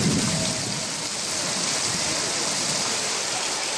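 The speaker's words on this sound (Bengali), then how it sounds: "বাঁকুড়ায় স্বস্তির বৃষ্টি" Rain falls steadily in Bankura, West Bengal, a dense, even hiss of downpour with no breaks and no voices.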